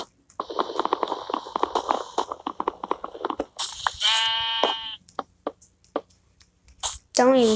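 Sheep bleating several times, nearby and clear, with shorter calls giving way to a long, wavering bleat, mixed with faint chewing-like noises and quiet gaps.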